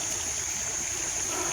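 Steady, dense rushing of a flowing river, close and continuous with no voices, a broad even wash of water noise throughout.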